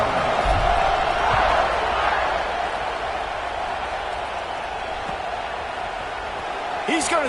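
A packed college football stadium crowd at a Notre Dame vs. USC game roars steadily at kickoff, a broad sustained wash of cheering that swells early and then settles.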